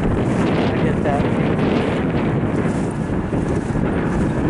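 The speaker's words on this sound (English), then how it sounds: "And then we got wind too." Strong wind buffets the microphone outdoors at a training session, a loud, continuous rumbling roar that never lets up.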